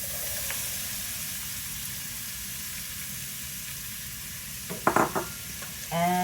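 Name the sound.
red pepper and onion sizzling in bacon grease in a pot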